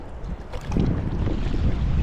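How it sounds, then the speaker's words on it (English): Strong wind roars and buffets the microphone at Joe Wright Reservoir in northern Colorado, a low rumbling gust that swells and stays loud, with faint water movement beneath. "you can see how windy it is"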